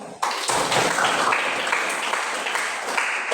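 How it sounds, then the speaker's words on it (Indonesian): A classroom of pupils applauds together, steady close clapping that starts abruptly and holds dense and even until the end. "Baik, tepuk tangan."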